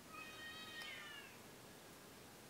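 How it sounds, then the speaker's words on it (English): Cats caterwauling outdoors, a thin wavering yowl rising and falling for about a second before fading into quiet background hiss, faint and distant. "Sounds like there's going to be a cat fight."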